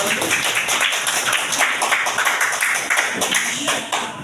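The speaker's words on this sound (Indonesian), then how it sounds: "Ya, betul, kita tepuk tangan dulu." A classroom of students clapping hands together during a religious education lesson, dense and loud close-up patter with uneven bursts, continuous throughout.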